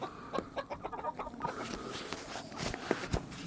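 Brahma chickens and other backyard hens cluck in a coop at feeding time, a series of fairly faint, irregular clucks with soft footsteps and shuffling around them.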